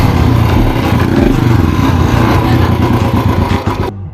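Royal Enfield Classic 500 Bullet motorcycle with a 500 cc single-cylinder engine, running loud and close with a steady deep thump and revving up before it cuts off abruptly near the end.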